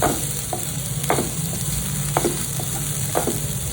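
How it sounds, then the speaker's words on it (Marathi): Broken wheat (dalia) dry-roasting in a pan with a steady hiss, while a spatula scrapes and stirs it in several distinct strokes. The sound is close and moderately loud, with no talking. "पूर्ण दलिया हा भाजून घेतो परतून घ्यायचा"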